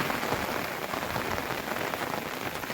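Steady heavy rain patters on a surface in a dense, even hiss in a forest in Gir, moderately loud and continuous, with no talking.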